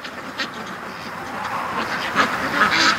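Ducks on a lawn in the evening give a few scattered quacks over steady outdoor ambience, moderately close and fairly quiet.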